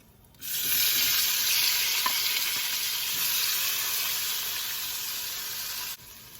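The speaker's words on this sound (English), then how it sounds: "Now to this pot, we'll go ahead and add our chopped tomatoes and cook until it completely softens." Chopped tomatoes cook in a pot for a spicy South Indian salmon curry, giving a steady, close sizzle and hiss that starts abruptly and holds evenly for several seconds before cutting off.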